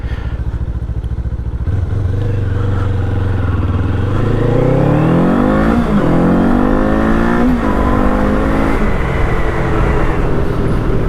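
Steady broadband roar of wind and engine while riding a cruiser motorcycle in 20-degree cold, rising in pitch as the bike accelerates through gears, loud and continuous with no talk.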